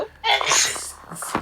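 A single sharp human sneeze, close and loud, with a brief breathy tail, heard during a tabletop role-playing game session.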